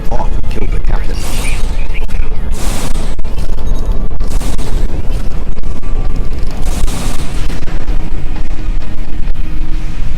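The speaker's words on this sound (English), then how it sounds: "That was an explosion of sufficient magnitude to cause a breach." In the Star Trek Online video game, an explosion breaches a ship's hull with loud booms and rumbling blasts, then continuous dense crashing and debris noise throughout, sustained and intense.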